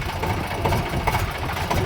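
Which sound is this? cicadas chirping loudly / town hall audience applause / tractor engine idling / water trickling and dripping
tractor engine idling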